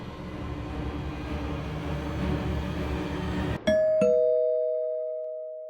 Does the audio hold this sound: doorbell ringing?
yes